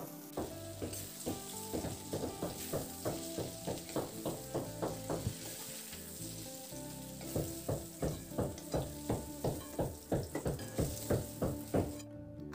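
Potato and pointed gourd pieces frying in mustard oil in a kadai, a steady close sizzle with regular stirring scrapes in a rhythmic pattern, no voices.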